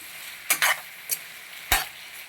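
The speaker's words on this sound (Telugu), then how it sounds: "పసుపు ఉప్పు పట్టేటట్లుగా వంకాయ ముక్కల్ని ఇలా కలయి పెట్టుకోవాలి" Brinjal pieces coated with turmeric and salt get stirred in a pan, giving a few distinct scraping strokes over a soft, low sizzle, close by and with no speech.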